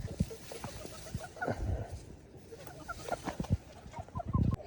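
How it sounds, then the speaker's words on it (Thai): Chickens cluck intermittently in the background outdoors, soft scattered calls with some rustling and low noise around them. "ไก่นี่บัดเฮามานี่มันนำเลย"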